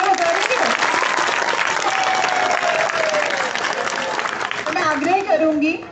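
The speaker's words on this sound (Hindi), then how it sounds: "तो आप एक बार फिर से मैम के लिए जोर से तालियां बजा देंगे।" Loud sustained applause from an audience at a hall ceremony, thick continuous clapping throughout with voices and cheers mixed in, swelling slightly toward the end.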